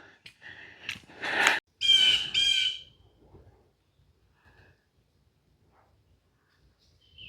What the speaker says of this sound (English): especially with that bird squawking